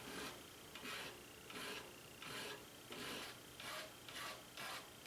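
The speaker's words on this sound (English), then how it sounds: "Then I go with a half-round file and start rounding out the finger grip areas" Half-round file rounding the finger grips of a push dagger made from an old file, rhythmic rasping strokes repeating about every half second, quiet and close, with no voices.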